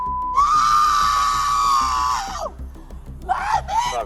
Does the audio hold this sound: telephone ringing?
no